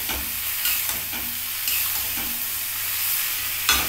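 Onions and panch phoron spices stir-frying in a hot pan, with a steady sizzle broken by several scraping stirs of a spoon, close and fairly loud, no talking.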